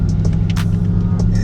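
A base Ford Mustang Mach 1 with a Coyote V8 runs with a steady, loud, low throbbing rumble close by, with no voices.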